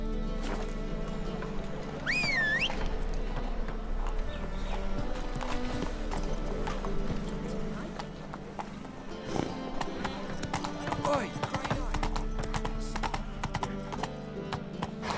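Horse hooves clip-clopping steadily while riding in The Witcher 3: Wild Hunt, with a whinny early on, music underneath and a voice speaking.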